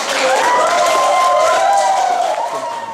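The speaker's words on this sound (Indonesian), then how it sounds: "Tepuk tangan untuk kelompok 4 dan untuk kita semua." Applause and cheering from a class of schoolchildren in a teaching session, a loud, sustained burst of clapping with voices rising over it, fading slightly at the end.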